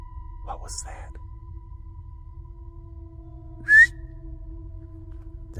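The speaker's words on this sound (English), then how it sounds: "That was like a whistle." A single short rising whistle, faint and distant, in a quiet outdoor hush at night in the woods, with a low steady hum underneath.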